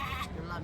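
A young goat bleats at a busy goat and sheep market in Gudur, a short wavering cry over the murmur of traders talking nearby.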